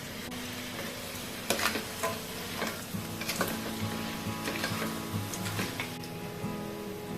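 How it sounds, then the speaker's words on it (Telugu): Crab curry masala with crab legs and chili powder frying in a pan, a quiet continuous sizzle broken by several sharp stirring scrapes and clicks. "ఇది మొత్తం మంచిగా ఫ్రై చేసుకోవాలి."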